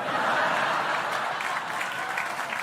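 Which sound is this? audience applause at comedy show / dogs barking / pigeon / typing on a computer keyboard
audience applause at comedy show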